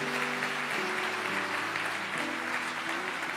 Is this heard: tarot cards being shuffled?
no